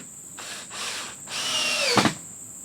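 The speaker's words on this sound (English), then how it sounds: "Put some screws in." Power drill driving screws while a cheap garage floor is laid, with three close, loud bursts of whirring motor, the last rising and then stopping abruptly as the screw seats.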